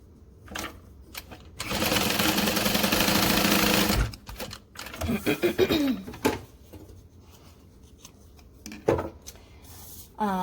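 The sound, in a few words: sewing machine stitching two fabric lining pieces together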